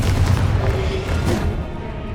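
Confringo fire spell blast in the Hogwarts Legacy video game, a dense rumbling explosion with a booming low end that fills the whole moment, loud and close, followed by a second swell of crackling debris.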